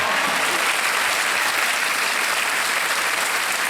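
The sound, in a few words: studio audience applause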